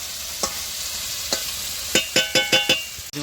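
Goat meat curry frying in its released oil in a village kitchen, a steady close sizzle broken by a handful of sharp stirring scrapes, one alone then several in quick succession near the end, with no talk.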